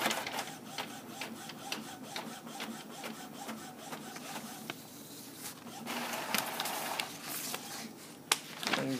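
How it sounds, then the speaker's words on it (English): An Epson printer prints a page with a continuous quiet mechanical whir, broken by a steady series of soft clicks and ticks as the paper feeds through. "Okay, so it is printing."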